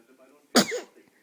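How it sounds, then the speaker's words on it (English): A small child gives one sudden, close sneeze, a short burst of breath that falls back to near silence, with faint household sounds before and after. "Had you a big sneeze?"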